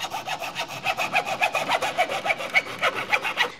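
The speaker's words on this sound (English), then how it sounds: "you can use just a simple handsaw, hacksaw, whatever, to cut these pieces to length." A small handsaw cuts pieces to length in quick, rhythmic back-and-forth rasping strokes, close and clear with no voices over it.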